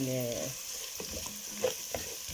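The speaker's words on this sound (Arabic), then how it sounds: "هسه راح اخلطهم مع بعضهم بهذا الشكل" Fried onion with cinnamon and cardamom sizzles in a pot while being stirred, soft scraping taps over a steady frying hiss, with a brief voice at the start.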